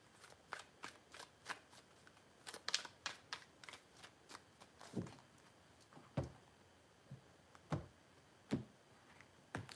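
Tarot cards are shuffled in a quiet room as a run of crisp riffling flutters and soft taps, fast at first and then spaced into separate slaps and shuffles.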